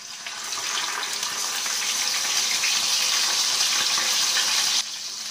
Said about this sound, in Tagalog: Lagyan na natin ito ng water.